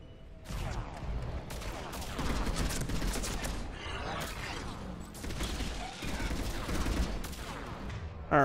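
Rapid bursts of gunfire from the video game Mass Effect 3 crackle continuously in a busy firefight, with sharp shots and a speaking voice mixed in.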